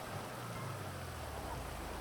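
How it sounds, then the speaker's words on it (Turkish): Steady rain in GTA 5 falls as a constant soft hiss, fairly quiet and continuous through the whole moment, with no voices over it. "Of yağmur mu yağıyor?"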